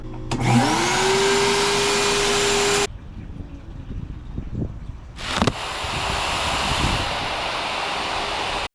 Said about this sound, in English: vacuum is set to blow